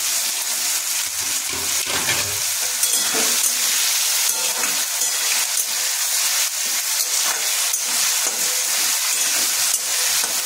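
Chopped potatoes and bay leaves frying in a pan for a Bengali cholar dal, a steady close sizzle and hiss with faint stirring scrapes running throughout, no talking.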